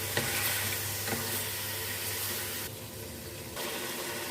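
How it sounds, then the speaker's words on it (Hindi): Chicken pieces stirred in hot oil in a pan, a continuous loud sizzle with occasional scraping of the spoon, close up and without talk. "अभी हम मिक्स कर लेते हैं चिकन को ऑयल में"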